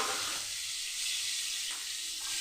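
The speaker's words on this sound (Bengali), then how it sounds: "মাছগুলো খুব ভালো করে ভেজে নেব" Rohu fish pieces rubbed with salt, turmeric and dry chili powder deep-frying in plenty of hot oil give a steady, close, crackling sizzle that runs unbroken throughout, with no voices.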